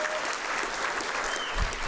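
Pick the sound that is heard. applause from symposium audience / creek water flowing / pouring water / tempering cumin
applause from symposium audience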